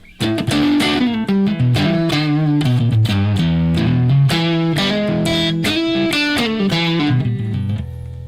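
A loud, overdriven electric guitar through a prototype 6L6 tube amplifier at 2.7 watts plays a chordal riff with warm, slightly distorted tone, notes ringing out in a steady rhythm before fading.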